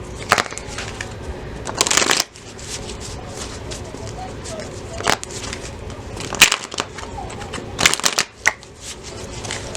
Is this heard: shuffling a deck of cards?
yes